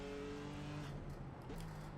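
BMW M4 GT4 race car in iRacing at Brands Hatch, its engine holding a steady droning tone with a brief rise and dip, moderately loud and close.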